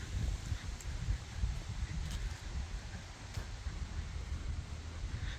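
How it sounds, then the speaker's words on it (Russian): Steady, broad cold wind rush with rain and low rumbling gusts buffeting the microphone, continuous and fairly loud throughout, with no voices. "Такой холодный ветер и дождь был"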